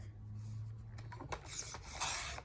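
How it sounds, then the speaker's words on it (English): Paper being trimmed for a scrapbooking layout: a few soft rubbing, rasping cuts up close, brief and dry, over a steady low hum with no talk. "Just trimming off that end."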